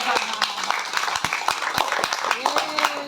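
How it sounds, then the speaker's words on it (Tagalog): A church congregation at an outdoor fellowship gathering claps for the Lord, a loose run of sharp handclaps over about three seconds, mixed with background voices and chatter. "Pumalakpak sa Panginoon yung mga naghihintay pa."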